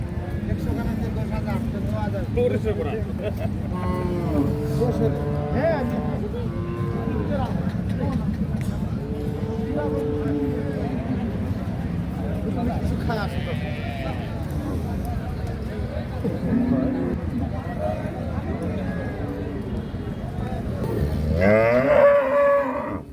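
A Holstein Friesian dairy cow lowing amid ongoing conversation at a cattle market, with people talking over a rumbling background and a louder burst of sound near the end.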